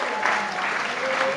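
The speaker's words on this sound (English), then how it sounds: "round of applause for Class 7." Applause for a class at a school award presentation, a brief, steady patter of many hands clapping indoors at moderate loudness.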